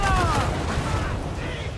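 Ship cannons boom in Assassin's Creed 4: Black Flag, a loud rumbling volley at the start that fades into a low roar, with someone talking over it.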